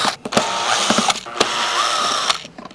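Posidrive screws being unscrewed from the air filter cover of a Royal Enfield 350 motorcycle, close small clicking and ratcheting taps from the screwdriver with scraping metallic turns between them, no talk.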